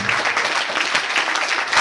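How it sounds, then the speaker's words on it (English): An audience at a school meeting applauds with a dense, steady burst of clapping filling the room for a couple of seconds. "Please claps for them."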